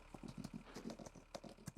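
Horse hooves clip-clop in Farming Simulator 22, a quick, even run of close, fairly quiet hoof strikes with no talk.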